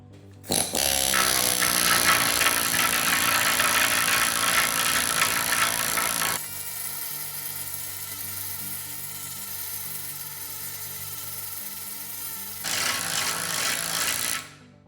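A needle scaler stripping rust and paint makes a loud, harsh buzzing rattle that starts abruptly, eases to a lower steady drone midway, surges again near the end, then cuts off.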